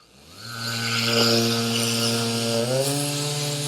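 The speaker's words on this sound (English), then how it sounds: "The 3x4 Surge electric tool is just as powerful, and your rate of cut that you'll get from this is just as good as an air sander" A 3x4 Surge electric sander spins up to about 10,000 RPM, a close, steady motor whine that rises and holds, with its pitch stepping up partway through.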